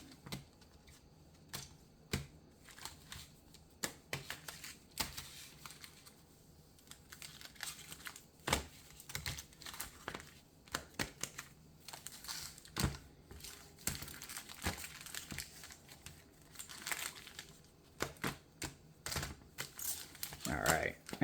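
Magic: The Gathering Zendikar Rising booster packs being shuffled and mixed by hand, with a steady run of crinkling foil wrappers and soft card-pack clicks throughout.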